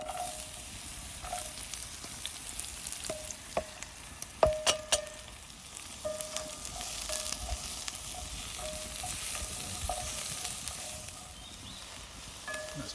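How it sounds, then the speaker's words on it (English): Two onions sweat in a Dutch oven over a campfire, giving a steady, soft sizzle and gentle frying crackle throughout, with a few sharper pops and clinks along the way. "That's my 2 onions in there, sweating away."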